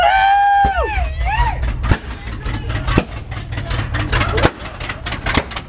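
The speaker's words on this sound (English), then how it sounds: "It's idling right now, Dart!" A car engine idles with a low, steady rumble beneath excited voices, including whoops and drawn-out shouting, the motor droning continuously under the chatter.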